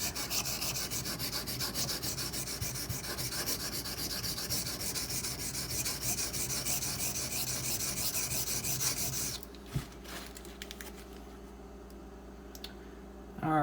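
A ZT 0620 tanto knife blade being sharpened, with a close, steady rasping rub of steel across the stone for about nine seconds, then stopping and leaving faint scraping and handling noises.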